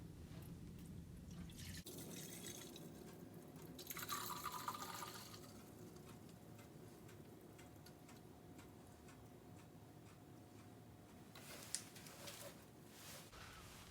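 Coolant poured without a funnel into a Mini Cooper S R56, a quiet steady trickle and fill with faint drips, the liquid gurgling a little louder midway, no talking.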